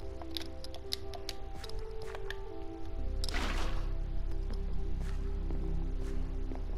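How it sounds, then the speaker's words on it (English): A water bucket is emptied onto a block in Minecraft, giving a single brief splashing whoosh partway through, surrounded by small clicks and a steady tonal background. "here you want to place water buckets"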